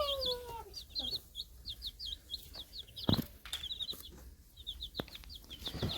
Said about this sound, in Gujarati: મિત્રો જોઈ શકો છો, આ છે નાના નાના બચ્ચા